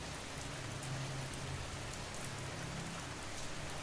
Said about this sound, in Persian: فقط صدای قطرات بارون.